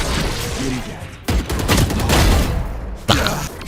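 Video game gunfire, with a bullet passing through metal, erupts in loud sustained bursts. Heavy volleys are broken by short pauses, then a final sharp shot rings out.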